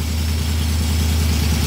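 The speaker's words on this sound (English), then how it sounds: "The engine is still cold." A cold car engine fitted with Fitech fuel injection idles steadily and loudly at close range, a continuous low rumble with no revving or voices throughout.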